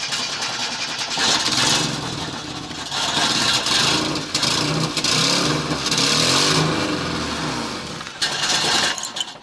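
An old Ukrainian car, likely a ZAZ Slavuta, cranks and catches, then runs with a rough, uneven mid-pitched engine note that revs up and down loudly through most of the clip before cutting briefly near the end.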